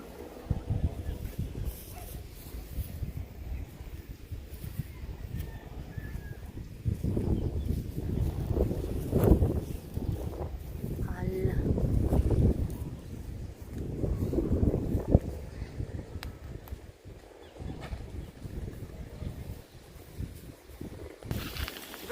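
Gusty outdoor wind buffets the microphone with rumbling low noise while kites fly, swelling in strong bursts and easing off over about twenty seconds.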